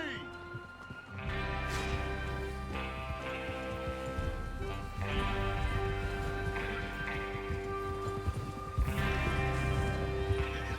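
Quiet rhythmic hoofbeats of galloping horses from a video game run under a layer of music, with voices mixed in.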